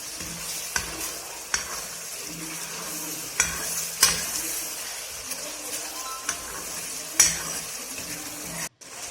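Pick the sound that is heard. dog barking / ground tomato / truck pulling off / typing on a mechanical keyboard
ground tomato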